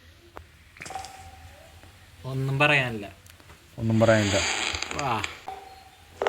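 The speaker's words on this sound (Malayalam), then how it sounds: "ഇവിടെ ഒരുത്തൻ്റെ ഫോൺ അടിക്കണ്ട്" In a horror video game, a phone rings in two separate, clearly pitched electronic ringing bursts at moderate volume, with someone talking around them.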